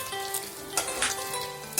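Eggs frying in oil for a Bengali dim kosha make a steady, close crackling hiss, with a few brighter spatters and bursts standing out along the way.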